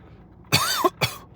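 Someone coughs twice in quick succession, close and loud, after a drink of water goes down the wrong pipe, the first cough rough with a rising strained tone, the second shorter.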